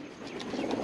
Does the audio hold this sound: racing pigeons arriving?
yes